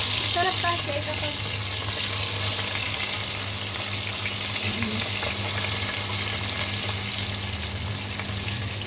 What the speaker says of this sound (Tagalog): masarap kasi kapag yung pritong-prito yung yung galunggong